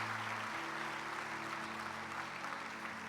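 Steady church congregation applause for the Lord during a sermon, a continuous even wash of many hands clapping with a low sustained tone underneath.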